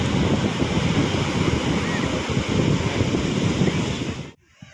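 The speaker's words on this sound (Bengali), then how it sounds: "একের পর এক ঢেউ আসছে যাচ্ছে" Sea waves break and roll in one after another on Puri beach at night, a loud, continuous rushing surf with wind buffeting the microphone, cutting off abruptly near the end.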